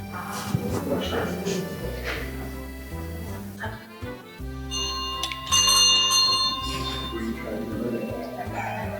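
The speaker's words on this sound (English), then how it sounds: "I rang the bell." A bell rung at a cloister in Saint-Rémy-de-Provence sends out sustained, clear ringing tones that linger and overlap, with people talking alongside.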